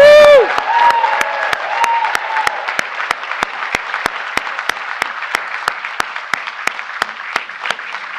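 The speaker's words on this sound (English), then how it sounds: "Please give him a round of applause." Audience at a formal reception breaks into sustained applause for the president, steady dense clapping filling the room for several seconds after a brief spoken introduction at the start.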